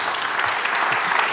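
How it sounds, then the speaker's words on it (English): Audience applause fills a conference panel session, a dense, steady patter of many hands clapping at moderate loudness, sustained throughout with no gaps. "we should have a round of applause all the time"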